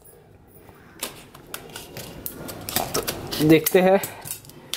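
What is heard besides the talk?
scissors cutting open a toy surprise egg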